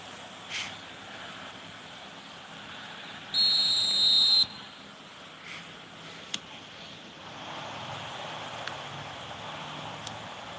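A referee's whistle in the eFootball Mobile football game sounds once, a single steady blast of about a second, over a faint crowd ambience with no talk.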